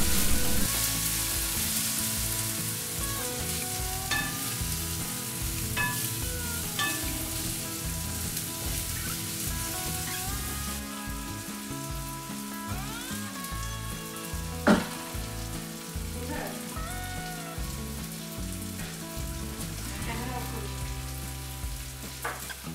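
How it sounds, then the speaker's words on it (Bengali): Spices with chili powder and garam masala powder sizzle steadily in a pan for a bottle gourd (lauki) dish, with a continuous frying hiss and occasional sharp stirring clicks. "সামান্য গরম মশলা গুঁড়ো এসব দিয়ে ভালো করে ভাজলাম"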